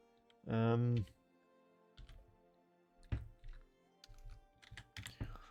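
Soft clicks and taps of typing on a computer keyboard come in short irregular bursts, following a brief loud tonal sound at the start.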